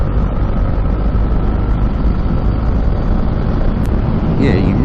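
A Bajaj Dominar 400 motorcycle opens to full throttle in sixth gear from about 4,000 RPM at roughly 90, a loud, steady engine drone buried in heavy rushing wind noise.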